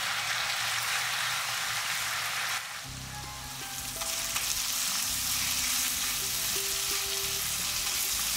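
Garlic sizzles and crackles in a pan over low heat, dipping briefly quieter partway through, then returning to a steady fry.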